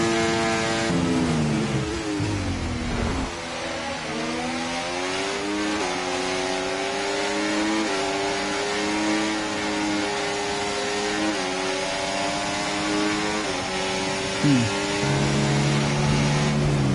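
Formula 1 cars from the F1 24 racing game roar past with steady high-pitched engine whine, rising and falling through gear changes and revs, loud and continuous with no talking.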